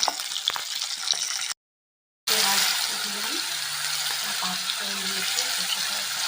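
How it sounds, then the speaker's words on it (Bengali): Onions sizzling in a frying pan for an egg dish, a steady soft hiss punctuated by a few stirring clicks, interrupted by a short silent gap before the frying resumes. "পেঁয়াজটা ভাজা হয়ে গেছে"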